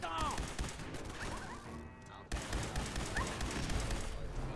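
Rapid gunfire and bursts from a turret fight in Fallout 4, a dense barrage of shots with crashes running almost continuously, a brief break midway, then resuming loud and close.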